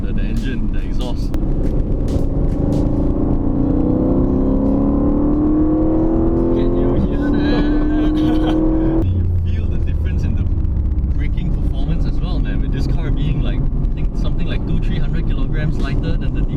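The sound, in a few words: sports car engine and exhaust on track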